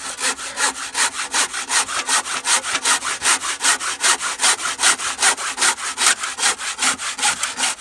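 A hand saw cuts through timber posts for a garden room base, a steady back-and-forth rasp of regular, evenly spaced strokes, close and loud with no talk.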